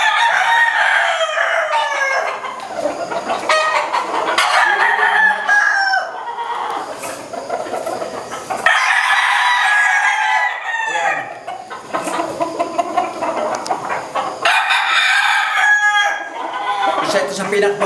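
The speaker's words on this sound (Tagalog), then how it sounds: "Ito naman mga kasabong." Gamecocks, fighting roosters kept for cockfighting, crow repeatedly and cluck loudly and close by, with several overlapping crows in a busy farmyard.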